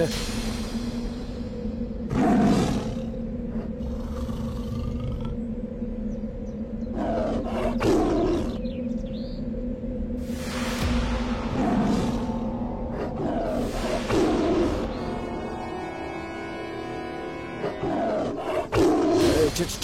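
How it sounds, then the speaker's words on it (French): A tiger roars repeatedly in a drama scene, loud, deep growling bursts recurring every few seconds, with dialogue and other sound effects between them. "Chad, le tigre."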